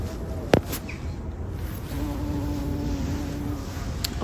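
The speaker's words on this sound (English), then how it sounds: "Oh, look at the bee on there." A large bee buzzing among flowers such as verbena in a November garden, a soft steady drone that holds close by through the latter half over outdoor background noise, with a brief sharp knock near the start.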